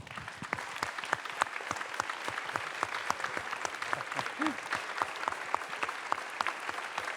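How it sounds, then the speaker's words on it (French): Thunderous applause from a seated audience at a public debate event, dense and sustained, with many hands clapping at once in an even, continuous roar for the full length, and no one speaking over it. "je pense qu'on peut lui faire un tonnerre d'applaudissements"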